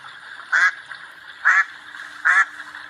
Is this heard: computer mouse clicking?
no